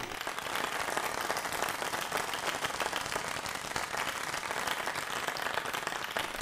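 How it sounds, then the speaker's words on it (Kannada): Audience applause welcoming Radhika Rao onto the stage at a children's dance show, dense and continuous clapping from many hands, fairly distant but holding steady the whole time. "ಅವರಿಗೆ ದಯವಿಟ್ಟು ಜೋರಾಗಿ ಚಪ್ಪಾಳೆ ತಟ್ಟಿ ಸ್ವಾಗತಿಸಬೇಕಾಗಿ ವಿನಂತಿಸ್ಕೊಳ್ತಾ ಇದ್ದೇವೆ"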